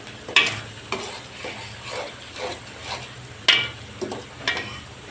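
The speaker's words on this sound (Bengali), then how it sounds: "পেঁয়াজটা লাল লাল ভাজা হইলে" Onions frying until reddish in a pan for a home potato curry, with soft sizzling broken by repeated scraping stirs of a utensil, several sharper clinks standing out.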